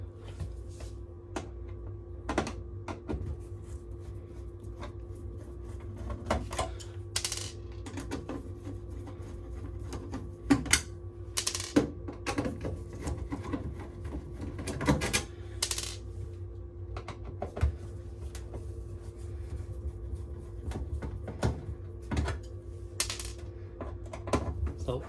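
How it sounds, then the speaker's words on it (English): Phillips screwdriver backing screws out of the outer cover of a Candy Grand Vita tumble dryer, giving irregular metallic clicks and small clattering taps over a low steady hum, close and moderately quiet. "We're going to remove those with the Phillips driver."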